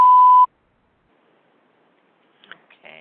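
A single steady voicemail beep sounds loud and clean for about half a second, followed by silence and then a faint voice starting to speak.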